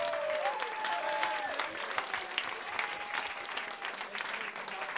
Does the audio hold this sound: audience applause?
yes